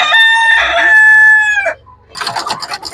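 A rooster crows once, loud and close, a long drawn-out call, followed by a short pause and rapid clucking from fowl nearby.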